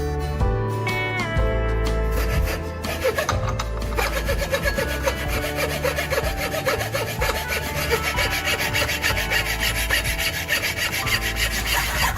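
A hand saw rasps steadily through wood while a wooden handle for a homemade welding tool is cut, with loud, continuous back-and-forth strokes up close.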